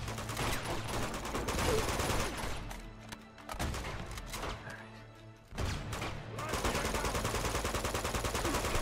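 Repeated bursts of automatic gunfire in Uncharted 2: Among Thieves, fired over enemies' heads, rattle loudly with brief gaps and thuds between volleys, and a voice speaks once briefly.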